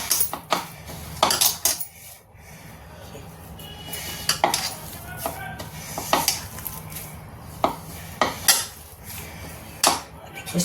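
A spoon clinks and scrapes against a bowl while stirring a water chestnut flour mixture, irregular sharp taps and scrapes close up, no talking.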